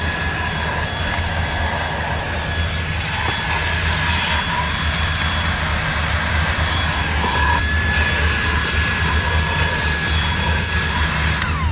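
A handheld cordless car vacuum runs steadily with a loud, close, sustained whine and airy roar, holding level with no speech throughout.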